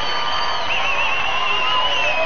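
A live crowd cheering steadily and loudly for bodybuilder Ade Rai at a MuscleMania bodybuilding event, a continuous roar with whoops and raised voices.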